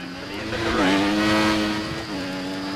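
A race car engine in a racing video game on a British GP circuit holds a loud, steady, droning note that rises slightly and then eases back, heard alone without talk.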